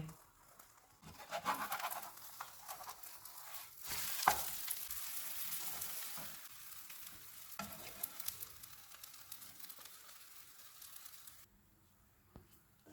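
A pan of egg and bread sizzles and crackles steadily on the stove, with a louder stretch midway and scraping touches, before the frying drops away near the end.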